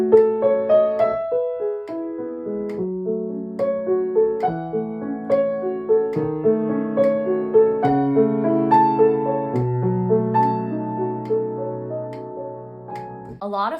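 A long run of evenly timed triplets locks in with a metronome click, clear melodic notes rising and falling in a smooth, steady pulse, close and consistent in loudness, closing with a quick word.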